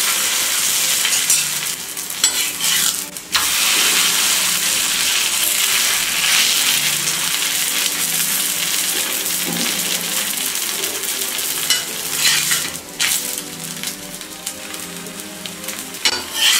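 A round paratha fries on a hot dosa griddle, giving a steady loud sizzle throughout with brief scraping and stirring noises layered on top, and no one speaks.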